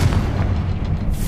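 A Confringo fire spell blasts from a wand in Hogwarts Legacy, a dense, continuous rumbling burst of booms filling the moment at steady loudness, with no voices.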